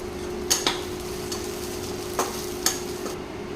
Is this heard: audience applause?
no